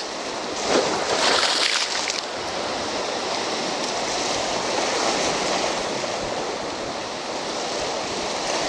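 Waves wash and splash against a rocky shore in a small bay at Anapa on the Black Sea in winter, with a continuous broadband rush of surf and wind and a louder surge near the start.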